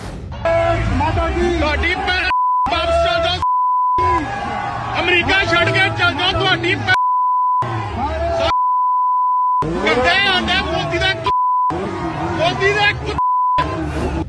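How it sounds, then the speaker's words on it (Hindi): A steady sine censor beep repeatedly cuts over swearing in chanted protest audio from a go-back demonstration at the UN, alternating with loud crowd shouting and babble in short on-off bursts. "हमने बीप कर दिया है जहां पर गाली की आवाज है"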